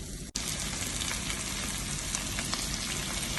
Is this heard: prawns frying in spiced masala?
yes